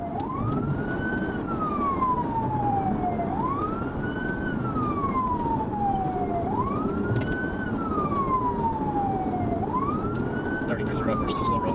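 A police car siren wails in four long repeating cycles during a highway pursuit, each sweeping up quickly and then sliding slowly down, over a steady road rumble.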